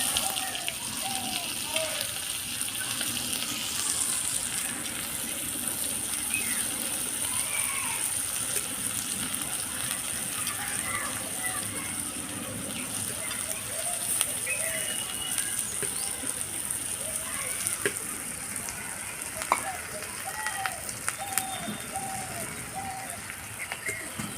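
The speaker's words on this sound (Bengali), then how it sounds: "পেঁয়াজটা দিয়ে দেবো" Sliced onion sizzles and sputters in hot oil in a pan with bay leaves, a steady crackling fry running throughout, with people talking over it.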